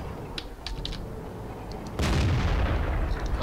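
A tank cannon firing in World of Tanks, one loud boom that cuts in sharply and rolls on, following a stretch of faint game noise with small clicks.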